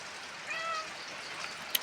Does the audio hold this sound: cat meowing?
yes